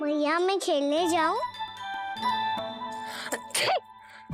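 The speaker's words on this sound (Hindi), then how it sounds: "अभी छींक आई ना, ये शुभ संकेत ना है।" A single sneeze bursts out near the end of a scene from the Hindi devotional TV drama Yashomati Maiyya, following a child's spoken question over soft background music.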